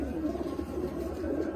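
Domestic pigeons coo softly in a low, throbbing murmur that runs steady and faint for a moment, with no speech over it.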